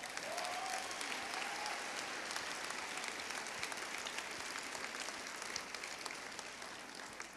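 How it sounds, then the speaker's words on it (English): A graduation ceremony audience applauds steadily, dense clapping filling the hall at an even, moderate level throughout, with no speech over it. "Let's give Dickern a round of applause."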